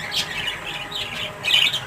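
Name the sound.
birds squawking among pet pigeons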